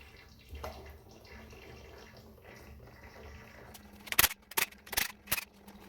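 Transmission fluid drains and drips from a car's transmission pan during a B&M shift kit install: a faint, steady trickle that gives way to several sharper, louder clanks and splashes toward the end.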